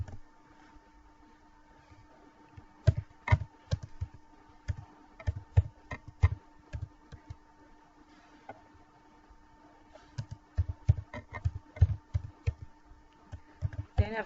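Someone types HTML code on a computer keyboard in quick, uneven bursts of close key clicks with short pauses between runs, over a quiet steady hum, with no talking.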